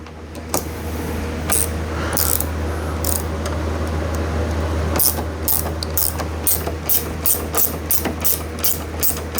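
Hand ratchet clicking rapidly in short bursts while loosening a screw, close and crisp, with a steady low hum running underneath throughout.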